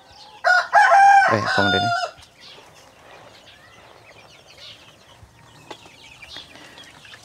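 A rooster crows loudly and close in a free-range backyard chicken flock on a farm in Cebu, followed by quieter clucking and faint farmyard ambience with a little talk.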